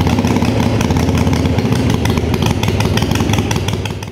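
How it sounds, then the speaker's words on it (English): A Harley-Davidson Sportster motorcycle engine runs loud and close with a rapid, even loping rumble, sustained throughout with no voices over it. "We're gonna start the bike, and we're specifically watching our oil light here."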